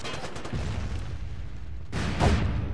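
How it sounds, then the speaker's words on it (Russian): Gunfire in the online shooter MAG: booming, muffled bursts of shots, with a louder burst near the end, heard without talk. "Ой, кто стреляет?"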